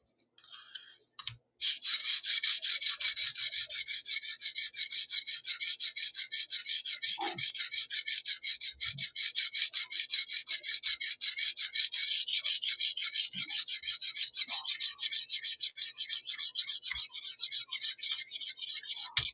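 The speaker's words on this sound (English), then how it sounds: "we've got a good burr going here" A knife blade is sharpened to raise a burr, giving a steady, rapid rasping stroke that repeats for most of the stretch, close and fairly loud, with no talking.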